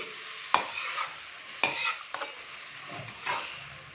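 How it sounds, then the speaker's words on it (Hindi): Minced beef frying with ginger-garlic paste, sizzling and crackling in a hot pan, with a utensil scraping and stirring it every second or so, close by. "बीफ के कीमे की तकरीबन 5 से 7 मिनट अच्छे से भुनाई कर लेंगे"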